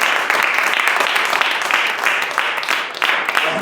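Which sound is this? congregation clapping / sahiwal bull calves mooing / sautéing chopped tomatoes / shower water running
congregation clapping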